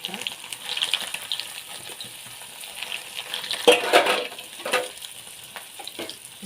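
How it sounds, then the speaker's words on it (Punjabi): Bread pieces fry in hot oil in a kadhai wok, with close, irregular sizzling and stirring scrapes that swell in a louder burst midway before settling back. "ਤੇ ਹੁਣ ਆਪਾਂ ਕੜਾਈ ਦੇ ਵਿੱਚ ਇਹਨਾਂ ਨੂੰ ਫਰਾਈ ਕਰਾਂਗੇ"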